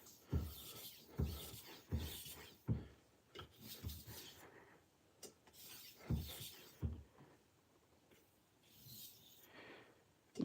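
A kitchen knife is sharpened with short half strokes, giving a series of quiet, close rasping scrapes in uneven bursts, with short pauses between runs.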